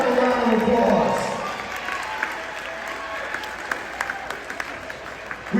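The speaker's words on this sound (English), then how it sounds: "Let's give them a round of applause." An audience applauds at a senior-focused state of the city address, dense clapping at first that thins into scattered claps toward the end, with some talk underneath.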